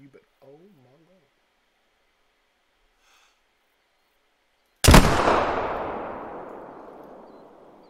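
A muzzleloader rifle fires once while hunting whitetail deer: a single sharp, very loud blast, close by, with a long rumbling tail that fades over several seconds after a quiet stretch with faint breathy sounds.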